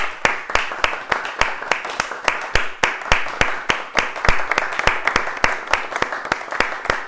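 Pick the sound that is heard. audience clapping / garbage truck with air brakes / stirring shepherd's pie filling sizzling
audience clapping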